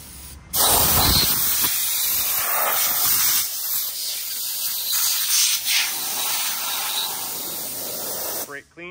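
A pressure washer sprays an engine part with a harsh, continuous hiss, starting abruptly and shifting in tone as it sweeps across a surface, then cutting off.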